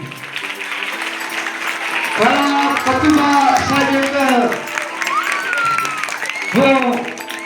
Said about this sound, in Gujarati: આપણે જોરદાર તાળીઓથી